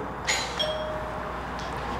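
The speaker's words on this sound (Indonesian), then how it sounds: "Ini ada bel nih." A doorbell at a house in America gives a short, faint chime near the start, with a softer ring later, over a steady background hum.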